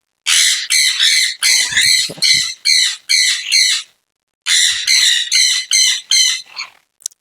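Pet sun, sun-cheek and pineapple conure parrots squawk loudly and harshly in rapid repeated bursts, break off briefly, then start again close by.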